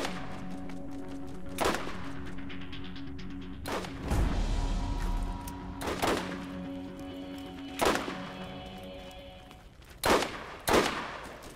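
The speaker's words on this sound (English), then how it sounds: "I wish I was better with this sniper rifle." Sniper rifle fire in the Borderlands video game, several sharp separate shots spaced a second or two apart, with a steady background game hum between them.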